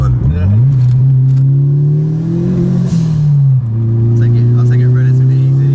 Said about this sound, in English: It's so nice to hear a dump valve because we never run them anymore